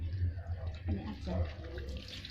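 Tap water runs steadily into a sink while bitter gourd is rinsed, a continuous splashing stream under a woman's speech.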